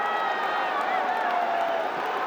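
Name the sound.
cricket crowd cheering in Mirpur stadium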